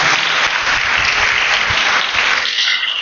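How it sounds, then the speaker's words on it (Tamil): Loud, dense clapping from a large crowd at a church flag-hoisting Mass, sustained throughout and tapering slightly near the end, with no talking. "சத்தமாக கைதட்டுங்க பாப்போம்."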